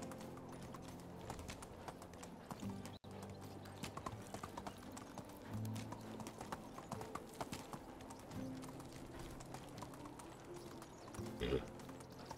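Horse hooves clip-clop steadily in the medieval life-simulation video game Medieval Dynasty as a horse is led back along a track, a continuous close rhythmic clatter with a snort or whinny near the end.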